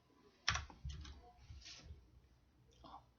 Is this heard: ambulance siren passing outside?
no